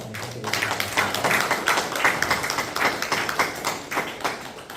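A church congregation applauds in encouragement after a Sunday sermon, a steady patter of many hands clapping in a continuous rhythmic stream.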